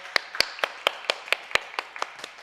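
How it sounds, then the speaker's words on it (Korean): Steady, evenly spaced claps from a church congregation after a Sunday worship service, crisp and fairly close, keeping a quick regular rhythm for a couple of seconds with no talk. "우리 큰 박수로 하나님께 영광 올려드립니다."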